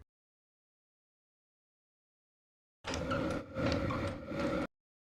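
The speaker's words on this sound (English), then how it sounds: "First turn the lever of the jack to lift the lid, and then slide the lid back." Within a VR game set in Hetepheres' tomb, a jack lever creaks and the heavy sarcophagus lid grinds and slides in two or three close, loud bursts of scraping stone after a long silence.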